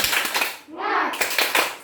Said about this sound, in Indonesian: sebelum lanjut kita tepuk tangan dulu. Tepuk semangat dulu